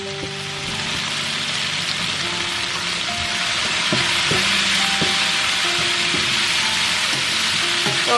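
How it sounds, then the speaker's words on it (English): A keto breakfast of eggs sizzles steadily in a frying pan, with a continuous close crackle and soft scrapes and knocks as it is stirred. "So I'm just going to fry this until it is done."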